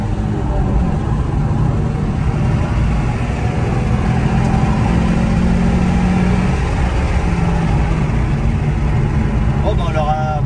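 A Nissan 350Z engine revving above 5000 rpm from inside the moving car, a steady loud droning roar that holds throughout with no clear breaks.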